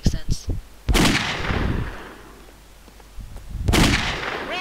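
Gunfire in the blocky shooter game Brick Force: a few sharp close shots at the start, then two loud blasts with long decaying booms, with a voice talking between them.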